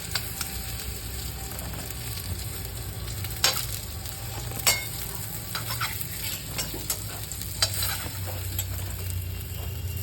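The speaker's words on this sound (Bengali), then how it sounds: "এখন আমি তেলের মধ্যে দিয়ে দিলাম তেজপাতা আর শুকনো মরিচ। তেজপাতা শুকনো মরিচটাকে হালকা ভেজে নেব।" Bay leaves and dried red chilies fry in hot oil for a vegetable dish, with a steady crackling sizzle joined by a few sharp spatters and stirring scrapes.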